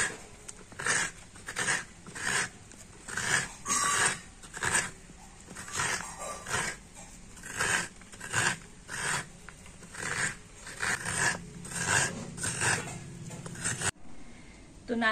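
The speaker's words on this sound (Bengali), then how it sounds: "তো প্রথমে আমি নারকেলটা কুড়ে নেব।" A split coconut is scraped by hand against a grater, producing repeated rhythmic rasping strokes close to the microphone, steady and evenly spaced throughout with a brief pause near the end.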